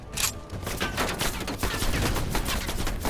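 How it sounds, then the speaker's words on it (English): Heavy machine gun fire from a ridge in Call of Duty Black Ops Cold War, a dense, continuous rattling fusillade, loud and sustained without pause. "Heavy MG on the ridge."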